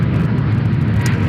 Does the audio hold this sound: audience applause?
no